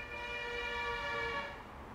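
Vehicle horn sounding a single sustained, fairly faint tone for about two seconds, steady and then fading slightly, with no talk over it.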